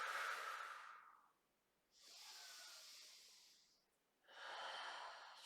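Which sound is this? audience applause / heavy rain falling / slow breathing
slow breathing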